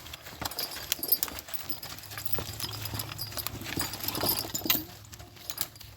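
A team of horses hauls a log across muddy, sandy riverbank ground. Their hooves clip-clop loudly and steadily up close, mixed with the dull scrape of the log.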